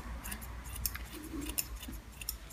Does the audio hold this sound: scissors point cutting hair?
yes